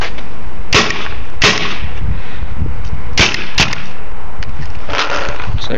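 Paintball gun firing explosive rounds, a handful of sharp, loud cracks spaced irregularly over a constant rushing noise, with no talk.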